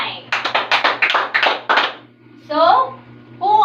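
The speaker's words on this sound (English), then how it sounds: "Give 5 claps to July" A classroom of students claps in quick rhythmic unison, about seven or eight sharp claps close together, followed by a voice speaking.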